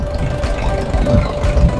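Engine of a Mazda Bongo double-cab 4WD running close by, a steady low rumble with a faint mechanical ticking throughout, no talk over it.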